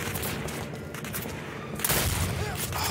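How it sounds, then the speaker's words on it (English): Gunfire from the video game Turning Point: Fall of Liberty, a rapid volley of shots crackling through a busy battle din, with a heavier burst near the end. "You can't see anything when you shoot the damn gun."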